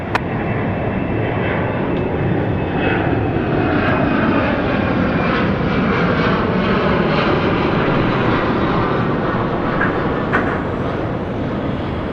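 An airplane takes off from runway 34 left, its engine roar loud and steady throughout with no voices.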